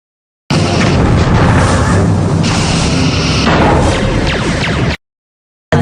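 Quantum torpedoes fire and detonate in Star Trek Bridge Commander: a loud, continuous booming rush of launches and explosions that fills several seconds, then cuts off abruptly, with another burst starting at the end.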